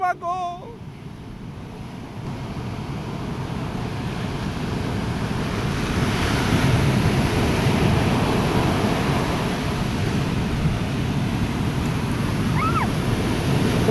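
Sea waves crash and surge onto the shore in Oman, a steady loud roar of surf with wind buffeting the microphone, a brief voice heard at the very start.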